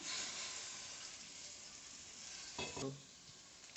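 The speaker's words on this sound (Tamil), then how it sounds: "நம்ம கட் பண்ணி வச்சுருக்கிற கத்திரிக்காயையும் போட்டு நல்லா வதக்கிடலாம்" Brinjal pieces sauté with masala in a pan for mutton kuzhambu, a soft even sizzle with a brief louder stirring scrape near the end.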